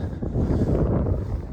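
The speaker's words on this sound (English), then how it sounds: "Again, I apologize for the wind." Strong wind buffeting the microphone on a farm in upstate New York, a steady low roar with gusty fluctuations that fills the whole stretch, no talk.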